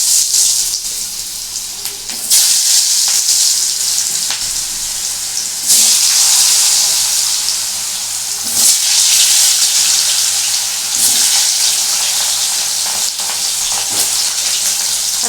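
Potatoes fry in hot oil in a pan for a prawn curry with gathi kochu, giving a loud, continuous sizzle. The sizzle swells and settles in waves as the pieces are stirred, with no voices.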